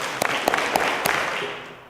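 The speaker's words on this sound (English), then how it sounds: "let's try this. 5 claps, ready, go" An audience at a student research poster session claps together in unison, a short run of sharp, evenly spaced claps, fairly loud and close, followed by a brief fading patter.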